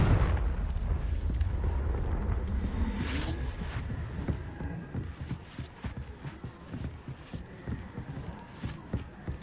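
Confringo blasting spell in Hogwarts Legacy: a heavy rumbling blast opens the stretch, followed by a rapid series of sharp, punchy bursts that fade toward the end, with no voices over them.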